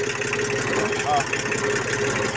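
Kubota L2000 small tractor engine running in sixth gear: a steady, close, chugging mid-pitched drone with a rapid even pulse, fairly loud throughout the short stretch, with a voice speaking over it.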